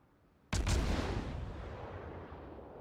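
A single heavy boom of warship guns firing in World of Warships, a sudden loud blast with a deep rumbling tail that fades slowly over a couple of seconds.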